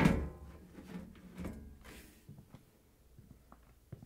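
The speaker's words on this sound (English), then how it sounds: "Slide the panel back and lift it off the washer." The top panel of a Samsung washer is slid back and lifted off: a scraping clunk of metal first, then fainter knocks and light rattles, close and without talk.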